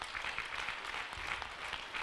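Applause from an audience at a book launch, a brief burst of steady, even clapping at moderate distance with no voices over it.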